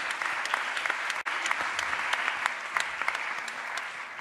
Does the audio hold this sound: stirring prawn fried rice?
no